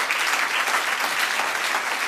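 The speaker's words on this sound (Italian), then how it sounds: "Qua un applauso ci vuole" An audience claps in dense, sustained applause at an Italian talk-show interview, loud and even from start to finish with no voices standing out.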